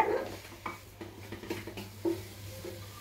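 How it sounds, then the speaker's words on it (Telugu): Wheat flour being stirred in ghee in a small pan: a spoon scrapes and taps against the metal in irregular strokes, with a faint sizzle underneath and no talking. "ఇలా లైట్గా మనము వేయించుకోవాలన్నమాట. ఇలా కలుపుతూ ఉండాలి, అస్సలు ఆపకూడదండి."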